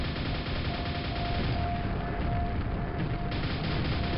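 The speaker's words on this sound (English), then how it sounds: "you're really, really a fan of making things throw grenades at me" Explosive combat din from enemies firing grenades in the video game Quake on nightmare difficulty, a dense continuous roar of blasts and gunfire with a thin tone running through it, loud and steady throughout.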